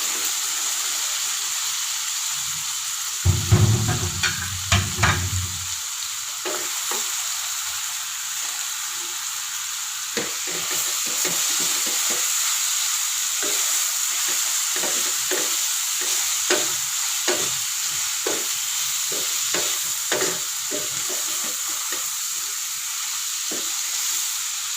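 Pork sizzles and hisses in a hot pan while being stir-fried for spicy pork binagoongan, with a loud burst of stirring early on, then steady frying crackle and scattered clinks of the utensil, with no talking.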